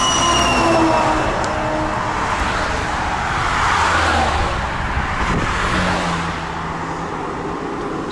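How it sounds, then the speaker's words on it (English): Heavy traffic streams past a roadside truck stop, a loud continuous roar of passing vehicles with tire noise and a faint high whine, swelling and fading as they go by, with no voices. "there's just way too much traffic"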